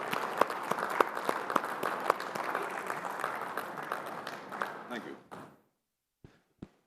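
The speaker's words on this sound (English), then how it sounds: "Big round of applause" Audience applause for an auctioneer at a Tamil Nadu Premier League player auction, a dense crowd clapping steadily with a few sharp louder claps, then quickly dying away into silence with two last stray claps.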